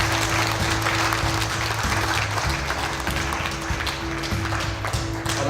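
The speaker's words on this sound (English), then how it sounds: "So everyone, a round of applause for James and Joe." Wedding guests give a round of applause, a dense, continuous burst of many hands clapping that stays loud and even from start to finish.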